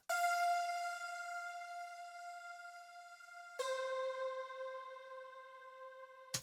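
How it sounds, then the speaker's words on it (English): A voice-like pad preset from reFX Nexus holds two long sustained chords, the second entering with a fresh swell partway through, smooth and breathy with no talk over it. "this third pad, which is kind of a voice pad."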